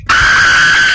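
A sudden, loud high-pitched scream from the horror video game Dungeon Nightmares, starting abruptly after a brief near-silence and held at steady intensity for the rest of the second, with no talk over it.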